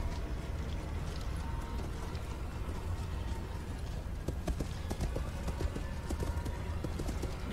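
Horse hooves gallop in the video game Total War: Warhammer 2, a steady busy clatter of hoofbeats inside dense battle noise that becomes sharper and more distinct toward the end.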